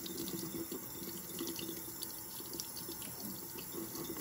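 Steady running water pours and splashes continuously while etching cream is rinsed off a piece of glass lying flat, close and alone with no talking.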